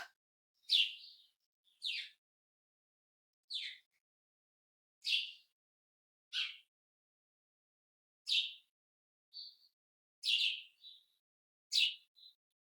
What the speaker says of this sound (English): You can hear the birds, which is nice